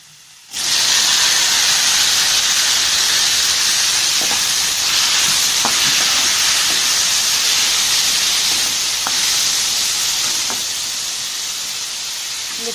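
Tomatoes hitting a hot pan for tomato thokku set off a sudden loud, hissing sizzle that holds steady and eases slightly toward the end.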